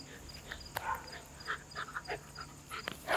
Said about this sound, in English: Well, it's clearly a dog.